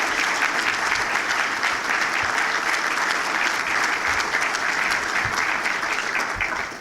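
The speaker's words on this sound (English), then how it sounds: "Let's give him a round of applause just for that." Steady, dense audience applause at a chamber of commerce breakfast, loud and sustained throughout with no talk, tapering slightly at the very end.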